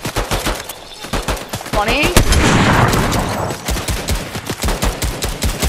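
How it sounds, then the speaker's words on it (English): Fortnite gunfire, with rapid bursts of shots crackling steadily throughout, sometimes in quick automatic strings. A voice speaks briefly over the shooting. "What are you shooting at?"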